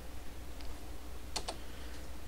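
An Enter key pressed on a computer keyboard, two quick sharp clicks close together after a fainter tap, over a low steady room hum.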